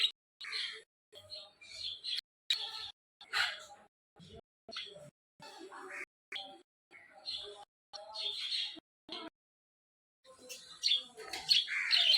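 Birds call in repeated short bursts, chirps and harsh squawks with pauses between, fairly close, with some voices mixed in.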